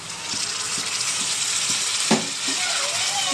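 Chopped tomatoes added to softened onions fry in a pan with a loud, continuous hiss, broken by a few scraping stirs and clinks close by.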